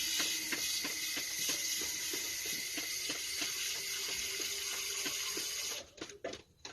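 Tap water runs steadily over a rubber-ringed part of a residential water filter being rinsed, a continuous close splashing stream with faint clicking, cutting off near the end into brief knocks.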